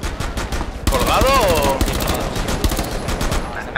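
Rapid gunfire in the tactical shooter Rainbow Six Siege, fast bursts of automatic shots crackling loudly and close, with a short gap before a sustained volley and a voice briefly exclaiming.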